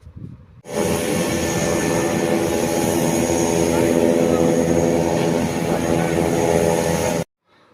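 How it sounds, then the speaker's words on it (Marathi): A small seven-seat turboprop plane at Dharashiv airport roars with a loud, steady propeller and engine drone, close by and sustained for several seconds before cutting off abruptly. "आज आपण छोटे 7 आसनी टर्बोप्रॉप हे एक विमान बघणार आहोत."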